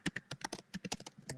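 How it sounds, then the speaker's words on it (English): Quick, irregular keystrokes clatter on a computer keyboard, about a dozen sharp taps in rapid bursts, heard faintly and up close over a remote call line. "Mr. Ratcliffe, who is typing me a message by the sounds of things."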